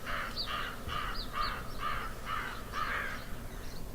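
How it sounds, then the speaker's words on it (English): Crows caw repeatedly outdoors on a cold morning along the road to Taos, New Mexico, a series of about seven harsh calls spaced in a loose rhythm over faint background noise. "A lot of birds here."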